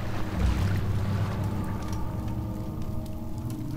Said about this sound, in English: I heard the splashing like all the way out here